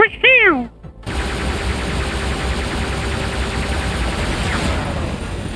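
Dense, continuous rapid gunfire from robot weapons in the mech combat game War Robots, loud and sustained after a brief electronic chime at the start.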